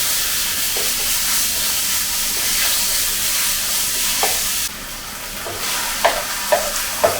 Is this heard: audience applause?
no